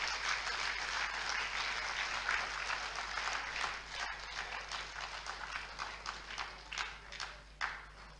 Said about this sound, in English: we need the loudest of the applause for him